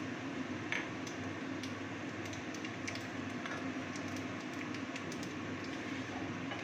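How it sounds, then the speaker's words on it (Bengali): Nigella seeds being tempered in hot oil for an aloo begun elish macher jhol, giving a steady, faint, even sizzle with tiny scattered pops and no talking. "এবার আমি ফোড়নের জন্য কালো জিরে দিয়ে দেব।"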